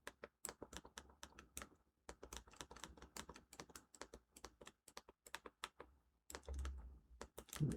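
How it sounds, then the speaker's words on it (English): Fingers type on a keyboard in quick bursts of sharp, close key clicks separated by short pauses, with a brief louder rustle near the end and no speech. "Type in Surfshark space VPN."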